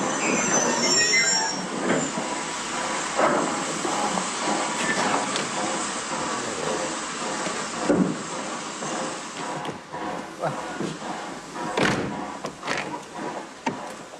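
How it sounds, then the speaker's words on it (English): A train runs along the rails toward Bournemouth with loud, sustained metallic wheel squeal, steady rumble and intermittent sharper screeches, close and continuous throughout. "this train will call at all stations to Bournemouth."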